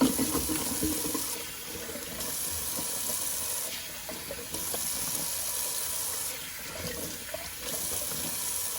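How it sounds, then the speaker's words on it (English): Cold tap water runs steadily into a sink for a rinse, a continuous splashing hiss with slight shifts in flow, close by and uninterrupted. "a little cold water rinse"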